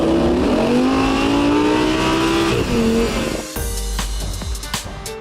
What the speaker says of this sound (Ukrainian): помірно витискаю акселератор, але подивіться, що відбувається